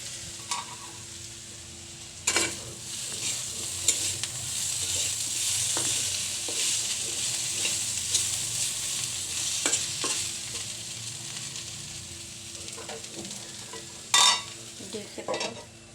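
Vegetables frying in a pan while being stirred, an even sizzle broken by occasional scraping strokes and a couple of louder clanks of the spatula against the pan, with no one talking.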